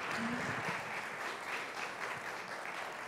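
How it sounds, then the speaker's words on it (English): Audience applause for a keynote speaker at a university symposium, a continuous even roar of many hands clapping, fairly soft and sustained with no speech over it. "So, round of applause to Dr."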